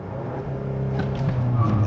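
A 2023 Volkswagen Arteon SEL R-Line, all-wheel drive and in sport mode, does a launch-control start with a 4,000 rpm clutch dump that spins the front tires. Its engine gives a close, steady rumble that builds louder through the moment.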